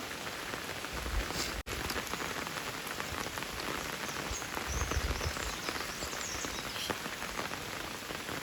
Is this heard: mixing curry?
no